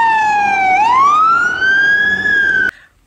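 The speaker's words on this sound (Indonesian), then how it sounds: "Truk pemadam kebakaran bandara" A toy airport fire truck sounds its electronic siren up close, one loud wailing tone that dips then rises slowly before cutting off abruptly with a click.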